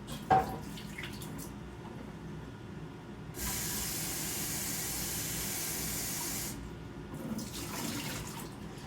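A running tap used for rinsing, turned on for about three seconds of steady, moderately loud water hiss, preceded and followed by a quiet room with a faint clunk at the start.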